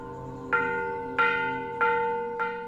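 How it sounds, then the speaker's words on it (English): A Buddhist monastery gong in Luang Prabang, Laos, is struck four times at an even, unhurried pace, each clear metallic hit ringing on and decaying into the next, with no voices. "The gong dictates the pace of the monks' lives, the beginning and end of their work, prayers, and meals."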